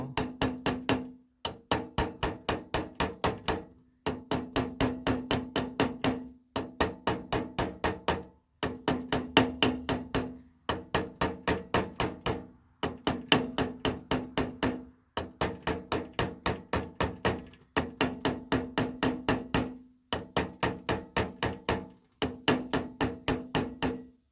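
A hammer slowly taps a bearing into place against a sleeve, making close, sharp metallic knocks in steady bursts of rapid strikes separated by brief pauses, repeating for the whole stretch with no talk.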